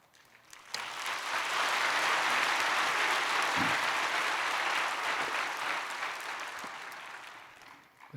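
Church audience applauding at a thanksgiving evening service, a loud, dense burst of clapping that swells quickly and holds steady for several seconds before tapering slightly, with no talk over it.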